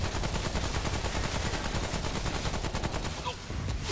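Rapid automatic gunfire from the shooter game Subject 2923 DLC rattles in a continuous, dense stream of cracks, loud and close, with no pauses for the whole stretch.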